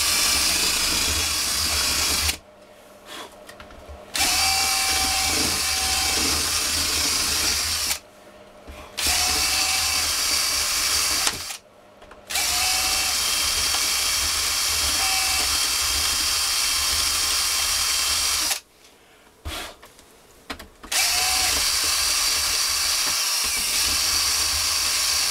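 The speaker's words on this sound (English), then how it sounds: "So the best way to do this is just with a drill." A power drill whines loudly and continuously, stopping briefly several times before starting up again, with a hissing grind as it cuts away plastic supports.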